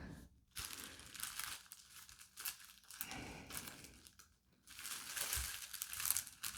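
Plastic bag crinkling and rustling while a Dolce & Gabbana CORTA GIRO cotton T-shirt is unboxed, close and fairly quiet, in bursts with short pauses between handling.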